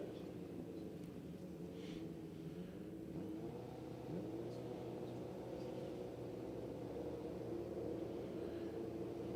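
Pro Tune Suzuki drag racing motorcycles at pre-stage during a Sydney Dragway drag racing event give a steady, fairly distant engine drone that holds throughout without distinct sharp revs.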